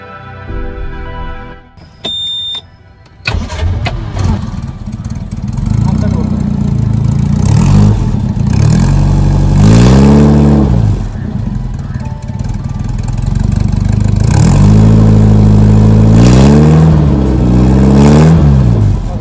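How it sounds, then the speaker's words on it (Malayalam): A vintage 1988 Premier Padmini with its original Fiat sound cranks and catches after a few quiet beeps, then idles loudly close up with several rising revs, while someone talks at times. "ഞാൻ വണ്ടി സ്റ്റാർട്ട് ചെയ്ത് സൗണ്ട് കേൾപ്പിച്ച് തരാം. ഇതിൻ്റെ ഒറിജിനൽ സൗണ്ടാണ് ഫിയറ്റിൻ്റെ."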